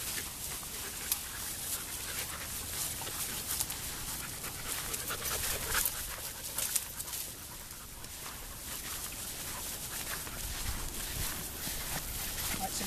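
Several dogs roaming off leash outdoors during e-collar recall training, heavy rapid panting close by along with rustling movement, while a voice talks intermittently over it.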